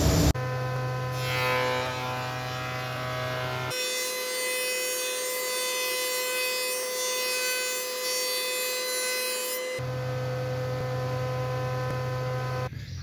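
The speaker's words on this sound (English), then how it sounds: "I'm just ripping the boards down on the panel saw to give me a straight edge to work to" A panel saw rips pre-finished timber flooring boards, its motor humming steadily between a loud, sustained cut lasting several seconds in the middle, close and alone without talk.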